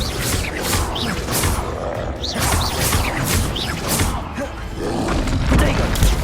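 Confringo fire spell blasts in Hogwarts Legacy combat, a dense run of booming, crashing impacts with sharp whooshes over a constant loud rumble of battle noise.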